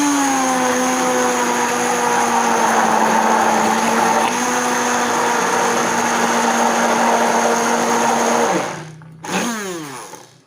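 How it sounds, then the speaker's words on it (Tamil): A blender whirs loudly and steadily as it purees neeragaaram, a traditional cooling drink made from fermented rice water with salt, then winds down near the end with a brief restart. "உங்கள்கிட்ட பிளெண்டர் இருந்தால் பிளெண்ட் பண்ணிக்கோங்க"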